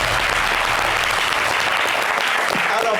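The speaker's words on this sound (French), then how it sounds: "On applaudit pour eux." A television studio audience claps loudly and continuously, a dense steady wash of hands with a low hum underneath.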